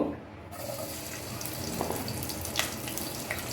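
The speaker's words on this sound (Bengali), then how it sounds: "এবারে আমি পেঁয়াজগুলো বেরেস্তা করে নেব।" Sliced onions fry in hot mustard oil in a pan, browning for spicy pulao. A steady, soft hiss and crackle plays close by, with a few brief sharper spits.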